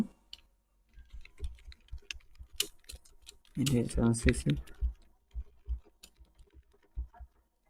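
Text being typed on a computer keyboard, heard as close, irregular bursts of key clicks, with a voice talking briefly over them in the middle.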